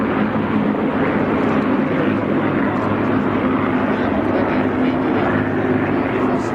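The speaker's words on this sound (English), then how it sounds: "the B-17 Flying Fortress brings up the rear of the first wave." A B-17 Flying Fortress passes overhead at the IWM Duxford airshow, a steady loud piston-engine drone with low throbbing tones and faint talk mixed in.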